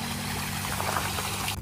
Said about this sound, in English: And it was this waterfall.